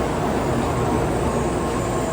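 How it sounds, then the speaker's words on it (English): Shinkansen bullet train travelling at speed in Japan between Tokyo and Osaka, a steady loud broadband rumble and rush of rail noise heard from inside the carriage without a break. "now we're going to go 200 miles on the ground on the bullet train"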